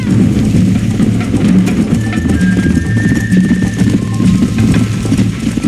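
Rapid, continuous hoofbeats of a galloping horse in the video game Red Dead Redemption, loud and rhythmic, with faint background tones; no voices.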